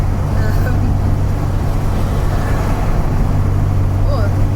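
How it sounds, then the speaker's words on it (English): A Morgan three-wheeler car on the road at the Kelmarsh gathering gives off a loud, steady low engine rumble that holds unbroken for the whole stretch. "Morgan three-wheeler, I think."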